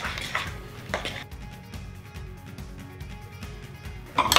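Banana bread batter with coconut oil and two large eggs is stirred in a bowl, producing steady close scraping and clinking of utensil against the bowl, ending with a louder clatter.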